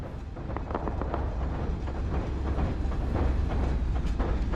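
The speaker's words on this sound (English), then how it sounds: "There's a train coming." A train rumbles closer in a survival video game set in an arctic world, a heavy continuous roar with rhythmic clatter that grows slightly louder over the span.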